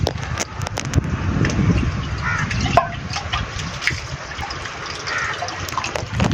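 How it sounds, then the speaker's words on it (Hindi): Natural spring water flows and splashes in a loud, continuous gush close by, with occasional sharper splashes and knocks over the rushing stream. "आपको चश्मा दिखाते हैं अपना साफ़ पानी पीने का, कुदरती नेचुरल"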